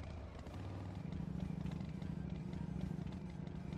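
A motorcycle engine in the video game Last Day On Earth, a low, steady, throbbing drone that grows a little stronger after the first second and keeps a fast pulsing rhythm.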